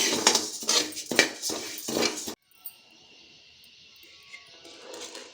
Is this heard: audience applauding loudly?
no